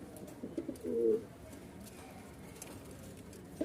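A single soft pigeon coo rises briefly out of a quiet, low outdoor background at a pigeon farm, then fades back to near silence.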